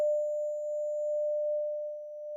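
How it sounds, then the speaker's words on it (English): Ringing-in-the-head effect in the Love and Deepspace video game: a single steady, pure mid-pitched tone holds unbroken for the whole stretch, moderately loud and alone, with no talking. "There it is, ringing in her head again."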